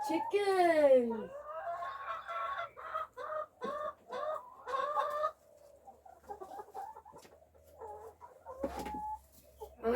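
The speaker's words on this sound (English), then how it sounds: "Oh, good chicken." Backyard hens in Melbourne cluck and squawk close by in short bursts, mixed with a person talking over and between the calls.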